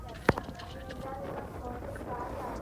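Horse hooves clip-clopping at a village horse and bull race in Khadaklat, a few quick hoof strikes with one sharp knock early on, heard under a background crowd murmur.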